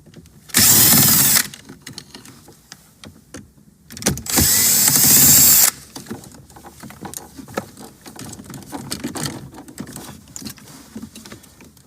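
A power tool removes screws from the interior of a 2016-2018 Nissan Maxima during airbag control module removal, with two loud, close whirring bursts, each lasting about a second or more, followed by quieter handling clatter.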